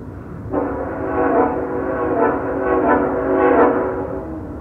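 A passing train's horn cuts in after a brief rumble and sounds in a series of long, loud blasts that swell and overlap, heard outdoors from trackside on a desert hike.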